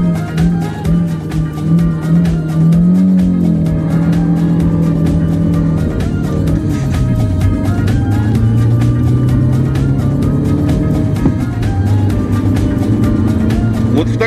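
A VW Pointer car accelerates hard in first gear, its engine revving loudly and climbing in pitch. The steady rising drone dips briefly and then keeps pulling, close and dominant throughout.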